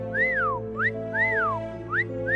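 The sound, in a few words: three-note whistle on a recording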